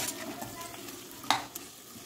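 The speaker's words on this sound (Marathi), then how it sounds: "बटाटा आपण मीडियमपेक्षा कमी गॅसवरच फ्राय करून घ्यायचा" Potatoes fry gently in a pan over low heat with a soft, steady sizzle. A sharp stirring clink lands near the middle, followed by a fainter scrape.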